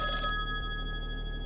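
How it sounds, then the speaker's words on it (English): Telephone bell ringing in a vintage radio play: a brief bright metallic ring that fades over a second and a half, alone with no voices. "I'll get the phone."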